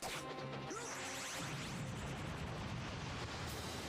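A loud crashing cartoon explosion blast erupts, then a dense, rumbling roar fills the rest of the clip with no talking.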